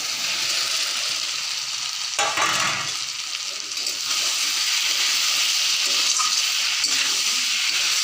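Eggs and potatoes tumble into sizzling spiced masala for a village-style egg and potato curry, a loud continuous fry with stirring scrapes and a brief splash of added ingredients partway through.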